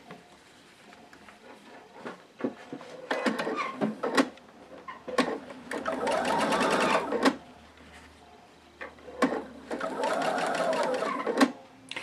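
A sewing machine stitches a seam along two fabric edges in bursts of fast, whirring stitching, stopping and restarting several times with a few quiet clicks between runs.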